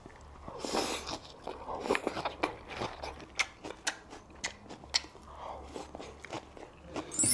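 A man bites and chews tonkatsu and sushi, with moist crunchy bites and smacking mastication repeating irregularly up close, with no talk.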